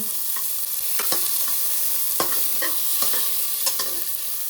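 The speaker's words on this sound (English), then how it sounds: "Now I'll fry the onions till they are brown" Onions frying in a pot for a one-pot pulao, a steady close sizzle of oil punctuated by several sharp clinks and scrapes of a spoon stirring against the metal; no one speaks.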